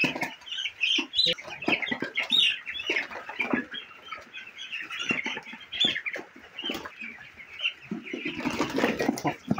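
Fourteen-day-old broiler chickens on a poultry farm cluck and squawk loudly and close by while being caught for weighing, with bursts of wing flapping and scuffling, and a louder flurry near the end.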